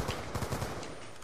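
A short burst of rapid automatic gunfire in the video game Shrek Ops, a quick run of several shots fairly close and loud, with no one talking over it.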